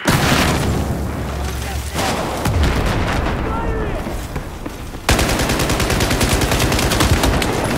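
Automatic rifle fire from a Battlefield 4 team deathmatch on the Zavod 311 map, loud dense bursts of rapid shots with heavy booming reports, one burst cutting in sharply near the end, over a busy battlefield din.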